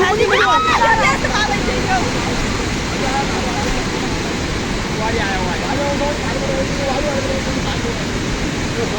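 Loud, steady roar of rushing flood water after heavy rain in Jajarkot, Nepal, filling the whole clip, with a few voices faintly audible beneath it near the start.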